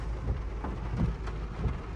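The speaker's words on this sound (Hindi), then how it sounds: "तो 3 दिन से कंटिन्यू बारिश हो रखी है गाइस," Heavy, steady rain in Nainital after days of continuous downpour, a dense wash of drops with low rumbling swells like distant thunder, loud and unbroken, no voices.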